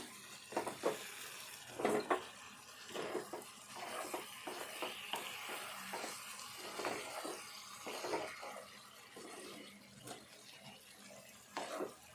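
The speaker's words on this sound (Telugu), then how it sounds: "ఇట్లా ఆయిల్ అంతా పైకి వచ్చినాక ఒకసారి కలుపుకుందాము" Ridge gourd chicken curry being stirred in a pan of hot oil, with soft scraping strokes and wet bubbling sizzle at moderate, uneven intervals, close up and with no voices.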